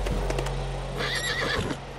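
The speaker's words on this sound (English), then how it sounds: "It's a goddamn horse." A horse in the motorbike game Trials Fusion gives a loud whinny over rapid clip-clop hoofbeats and a low engine-like drone, close and alone.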